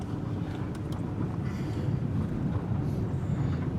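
A car rolls down a gravel road through woods, heard as a steady, close, low rumble with a rough crunching texture and no voices.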